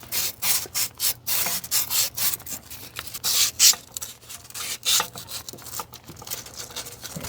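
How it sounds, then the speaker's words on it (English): Hand sanding on a part of a Freightliner FLD semi truck: close, rhythmic back-and-forth abrasive strokes, roughly two per second, continuing steadily throughout with slight irregular pauses. "We're gonna sand that down before we put the new one on."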